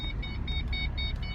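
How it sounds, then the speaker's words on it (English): A car alarm chirps in quick repeated high beeps, about eight short pulses in a regular rhythm, fairly faint over a low rumbling background, with no one talking. "The alarm's still going off because it thinks you're a human."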